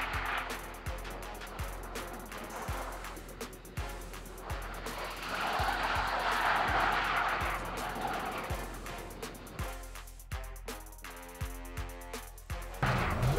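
A Porsche Taycan 4S in Finland spins a 360 on the spot, giving a swelling scrubbing rush mid-spin over a steady run of evenly spaced thuds, close and moderately loud.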